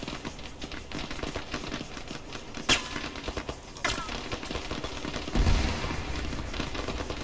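A military video game plays bursts of gunfire, with sharp cracks and a few heavier booms over a constant rumbling battle background, some shots near and loud, others farther off.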